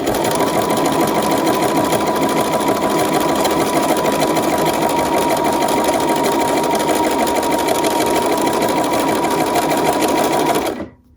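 Sewing machine running steadily and close, stitching fabric in a sew-along project, a continuous loud mechanical whir that holds for about eleven seconds before cutting off abruptly.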